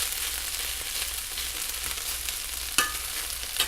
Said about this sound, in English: You just want to get it nicely browned up.